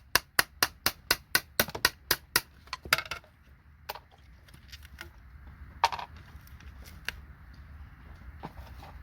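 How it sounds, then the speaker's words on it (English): A hammer knocks IC chips off a scrap circuit board in a rapid run of about a dozen sharp metallic strikes, then scattered lighter taps and clinks, close and loud with no talk. "Just quick hammer them off."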